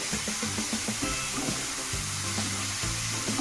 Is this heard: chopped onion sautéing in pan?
yes